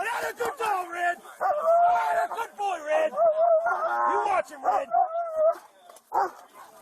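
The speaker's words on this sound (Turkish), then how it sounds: "Zanlıyı paçasından yakalayan köpek kelepçelenene kadar onu bırakmadı." A police dog barks and yelps repeatedly in quick bursts, some drawn out into whiny howls, close and loud, with a news narrator's voice running over it throughout.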